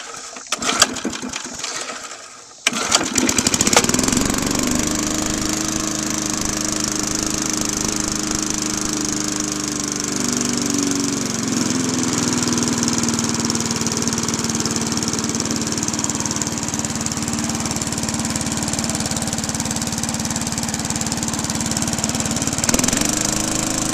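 A push lawnmower's small engine cranks with a few sputters, then catches and runs at a steady, loud drone on a cold day, holding an even idle for about twenty seconds with no talking.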